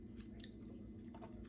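Someone chews fried pickles, giving soft, close crunching bites, a few brief chews over a quiet moment with no talk.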